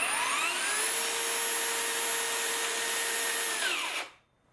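Yard Force 2x24V 14-inch electric chainsaw whines steadily at full speed for about four seconds, then cuts off abruptly and winds down to silence.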